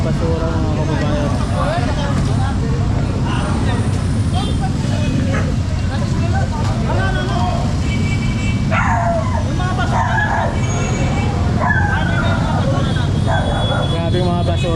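A stray dog barks and yips now and then on a littered city sidewalk during a street-clearing operation, heard amid steady traffic rumble and crowd chatter, with people talking throughout.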